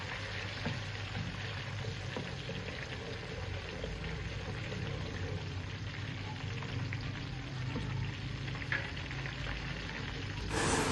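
Onions and green chilies frying in a pan, a steady close sizzle with faint crackles running evenly throughout, no talking.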